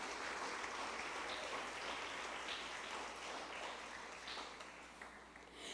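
A church congregation claps together in worship, a faint, steady wash of applause that fills the whole stretch and eases off slightly toward the end.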